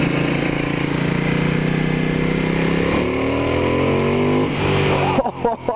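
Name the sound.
Ducati XDiavel motorcycle accelerating with exhaust pops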